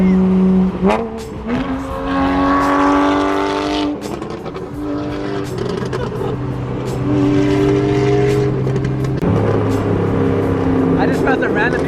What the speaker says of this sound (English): I just found some random people racing, guys.